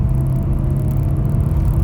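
A Honda Civic 1.4i-VTEC Sport pulls in fourth gear near 100 km/h, its engine and road noise a constant low rumble heard from inside the cabin, close and unbroken, without speech.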